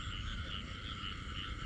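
Male frog croaking in a flooded rice field, a close, loud, rapid pulsing croak that repeats steadily over low background noise, with no voices.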